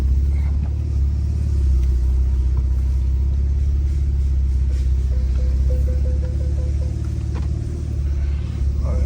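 A Porsche 991 Turbo S engine idles while warming up, a steady, deep, low rumble held close and even throughout with no revving and no voices.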